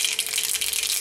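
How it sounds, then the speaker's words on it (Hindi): Mustard seeds dropped into a spoonful of hot oil in a kadhai crackle and rattle in a dense, continuous burst of sputtering for about a second. "एक कढ़ाई में 1 चम्मच तेल गरम कर लिया है, उसमें अब हम डालेंगे राई"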